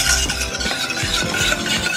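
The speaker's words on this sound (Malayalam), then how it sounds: "നമുക്ക് നന്നായിട്ട് ഇളക്കി ഒന്ന് ചൂടാക്കാം." A spoon stirs a warming mixture of milk, milk powder, cornflour and sugar in a pan for kunafa, giving close, continuous scraping and swishing with faint sizzling, and no voices.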